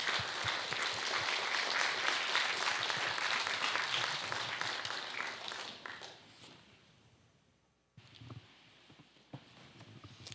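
A church congregation applauds in dense, sustained clapping that fills the hall, then fades out, with a few scattered claps and footsteps after a brief pause.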